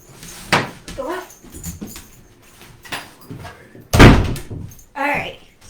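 Dog being let out indoors, with a door banging shut loudly, small whimpers and scuffling, and a person speaking intermittently.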